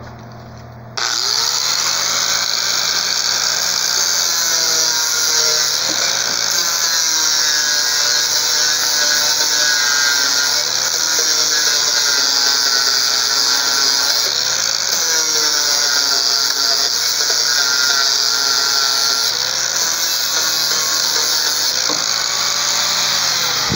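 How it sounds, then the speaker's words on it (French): A grinding disc smooths down a spot weld on a VW split-window bus panel, a loud, steady high-pitched whine sustained for over twenty seconds with slight wavering as pressure shifts. "Donc je vais le faire avec le disque"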